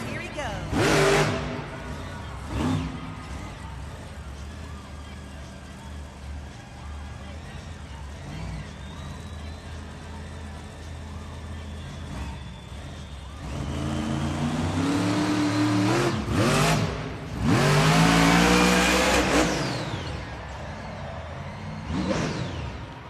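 Monster Mutt Dalmatian, a Monster Jam truck driven by Blake Granger in an arena event, revs its engine in loud roaring bursts, building to sustained heavy revving near the end over crowd noise and an announcer's voice.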